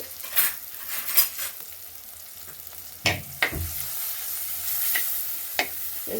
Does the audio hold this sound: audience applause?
no